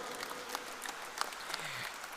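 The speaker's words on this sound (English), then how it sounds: "Keep the applause going." An audience at a rugby sponsors' felicitation ceremony claps in steady, even applause, fairly distant and soft, filling the moment without voices.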